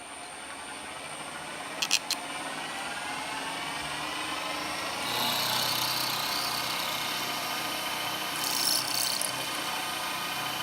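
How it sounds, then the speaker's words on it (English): A milling machine cuts T-slots while a rotary table is fed by hand, giving a steady broadband machining hum with faint rhythmic ticking, a brief clicking burst near the start and a louder cutting surge midway and again near the end; no talking. "that then puts that cutting milling cut right on the edge of that line"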